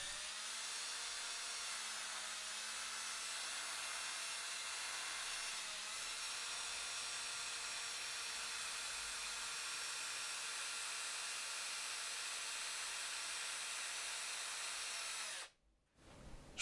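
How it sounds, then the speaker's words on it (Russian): A cordless screwdriver turns slowly as it drives a wooden skewer into a balsa wood block to make a fishing float, giving a steady near motor whine that runs unbroken before stopping abruptly near the end. "Затем зажимаю шпажку в шуруповерт и на медленных оборотах вворачиваю в бальзу."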